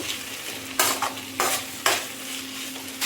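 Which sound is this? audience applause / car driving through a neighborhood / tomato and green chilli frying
tomato and green chilli frying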